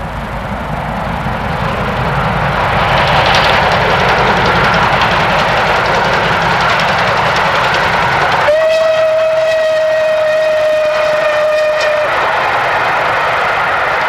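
Southern Railway Bulleid light Pacific 34027 Tor Valley runs with a loud, steady rumbling roar, then sounds a long steady whistle for several seconds while the engine noise carries on underneath.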